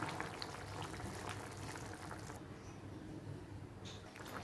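Shellfish curry with beans and potatoes simmering in a pot, a soft steady bubbling with small pops and faint liquid sounds, quiet and close, no voices.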